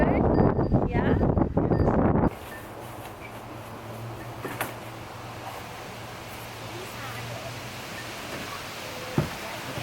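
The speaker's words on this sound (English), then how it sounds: "it's pretty windy out here" Wind gusting outdoors, loud and rough at first, then a steady rushing hiss that carries on alone with a few brief knocks.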